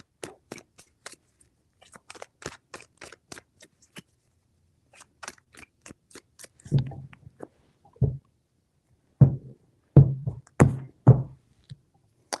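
Tarot cards shuffled by hand: a run of quiet crisp ticks and flicks, then several heavier, fuller thumps as the deck is tapped or squared on a surface, close and with no voice.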